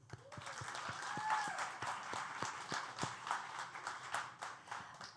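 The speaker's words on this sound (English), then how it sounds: "give them a round of applause too" An audience in a historic club building gives a round of applause during a live story-reading event: soft, somewhat distant clapping with distinct individual claps standing out, steady for several seconds.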